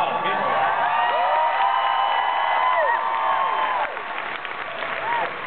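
A large convention panel audience at ECCC cheers and applauds for Jonathan Frakes and Brent Spiner, a steady roar of clapping and whoops with a voice speaking over the crowd.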